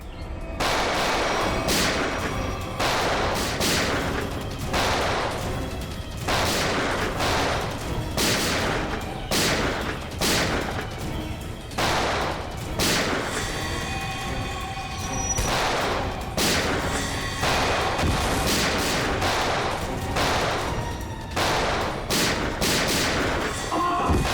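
Repeated bursts of gunfire in a shootout from the Indian TV crime drama CID, loud shots and volleys recurring throughout with brief gaps and little speech.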